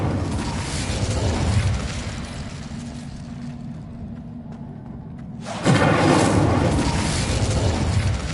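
An Incendio fire spell cast in a Harry Potter video game, a sustained roaring whoosh of flame that drops away briefly, then bursts back louder and keeps burning.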